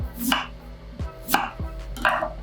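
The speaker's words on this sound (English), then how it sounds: "what I'm gonna do is just very thinly slice some rounds" A knife slices a beetroot into thin rounds on a cutting board, with four crisp, evenly spaced cuts each ending in a sharp tap on the board, heard close and alone.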